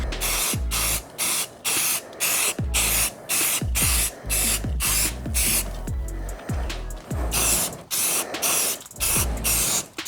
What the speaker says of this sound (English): we can spray it over our repair